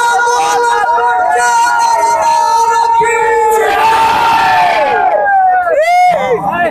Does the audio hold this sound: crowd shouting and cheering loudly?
yes